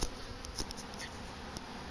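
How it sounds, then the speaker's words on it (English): Honey bees buzzing steadily at a hive during a late-winter apiary check, a faint continuous drone with a few brief louder passes close by. "We're going to let these bees calm down a little bit"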